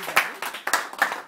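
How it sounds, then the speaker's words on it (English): A few scattered hand claps from a small audience at a New Year party, about five separate sharp claps spread over a second and a half, fairly close and moderately loud. "Okay, guys, one round of applause."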